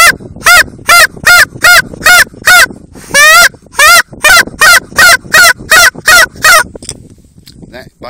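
A wildfowling call blown to imitate a Canada goose, giving a rapid series of loud, close, evenly spaced honks in a steady rhythm, with a brief pause partway through before the honking resumes.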